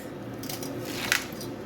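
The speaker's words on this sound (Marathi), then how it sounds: "मेथीची भाजी स्वच्छ निवडून धुवून घेतलेली आहे आणि थोडीशी चिरून घेत आहे" Washed fresh fenugreek leaves are chopped inside a sieve, giving soft, crisp cutting bursts over a steady rushing background for under two seconds, with no voices.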